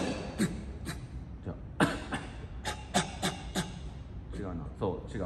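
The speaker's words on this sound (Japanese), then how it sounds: "咳、本気で咳して。" A person gives several sharp, forceful coughs in a row, spaced irregularly with breaths between them, close and clear during a bodybuilding posing feedback session.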